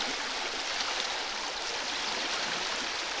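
Small river rapids on the Crow River in Algonquin rush and hiss steadily, a close, continuous broadband wash of moving water with no voices.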